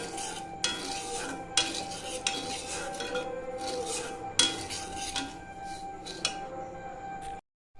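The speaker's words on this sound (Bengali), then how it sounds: "প্রথমে আমি সুজিটা একটু কড়াইতে দিয়ে হালকা করে একটু ভেজে নিচ্ছি।" Semolina dry roasting in a kadai without ghee, a spatula scraping and clinking against the metal pan in a steady, uneven rhythm of close strokes over a faint background hiss.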